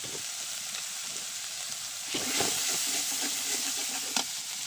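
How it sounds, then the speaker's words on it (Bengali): Ginger, onion and garlic paste fries in hot oil, a continuous close hiss and sizzle that swells louder midway, with light stirring scrapes and a sharp tap near the end. "এখন নিয়ে সুন্দর করে তেলের উপরে ভাজা ভাজা করতে হবে। মশলাটা সুন্দর করে কষাই নিতে হবে।"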